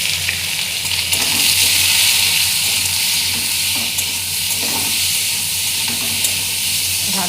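Vegetables fry in oil in a pan with salt and turmeric, giving a steady close sizzle and hiss with a few soft stirring scrapes throughout.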